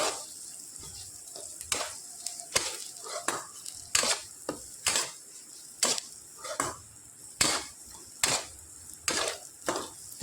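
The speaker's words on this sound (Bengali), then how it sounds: "সমস্ত কিছু একটু ভালো করে নাড়াচাড়া করে নেব" Spices and ingredients are stirred in a pan with a utensil: a steady run of sharp scraping strokes, roughly two per second, faint and close against a quiet background.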